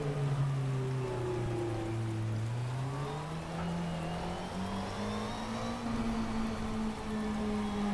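Rain hisses steadily over a GT3 car's engine drone in the racing sim rFactor 2, the motor holding a smooth, shifting tone throughout with no voices.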